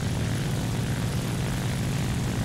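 A propeller airplane engine in the War Thunder combat flight game drones loudly and steadily, a dense low roar with broadband wash filling the whole stretch and no talking.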